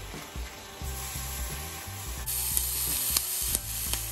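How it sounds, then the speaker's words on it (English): A pork chop stood on its fatty edge sears in a cast iron pan, making a loud, steady, close sizzle that intensifies partway through, with faint periodic knocks. "now we're gonna stand it up so we can get all of this cuero cooked nicely"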